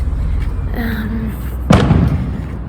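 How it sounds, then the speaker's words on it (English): A single sharp firework bang bursts out during Día de los Muertos celebrations in Oaxaca, Mexico, loud and close, following a voice heard faintly over background crowd noise. "Fireworks are going."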